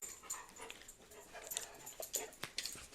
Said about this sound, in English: the part that I cut out of my dog coming downstairs when I was recording